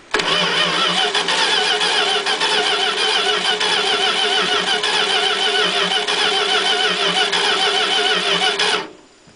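A tractor engine cranks and runs loudly and steadily for about nine seconds, with a buzzing, even mechanical drone, then cuts off abruptly near the end.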